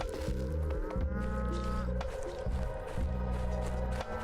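Cow mooing in the game Pathologic 3, a sustained low bellowing moo with harmonic overtones over a steady ambient game backdrop, repeating in drawn-out calls across the few seconds.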